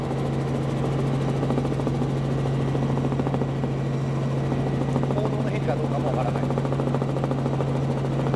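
Helicopters circle over Meiji Park in Tokyo during a large anti-nuclear rally, giving a continuous, even rotor and engine drone that stays loud and steady throughout.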